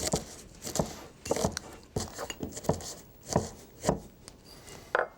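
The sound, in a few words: breaking up walnuts for pesto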